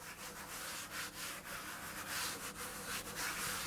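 A hand rubs and spreads flour across a board while shaping cookie dough, a continuous soft scraping and brushing close up, with no talking.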